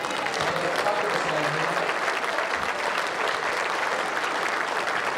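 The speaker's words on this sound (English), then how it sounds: "Both players a fantastic round of applause." Crowd applause for the players at a bowls match at the 2015 World Bowls Championship, steady dense clapping sustained throughout at moderate loudness with faint background murmur.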